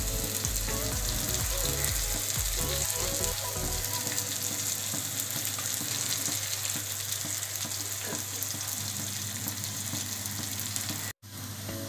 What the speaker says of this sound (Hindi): तो गार्लिक भी हमारा भून चुका है